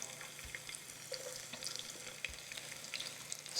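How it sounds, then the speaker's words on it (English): Gentle sizzling of chopped onions and meat frying in oil, a soft continuous crackle with scattered pops, fairly quiet and close, no voices. "I get that by little chopped up onions, meat with oil. It's getting fried."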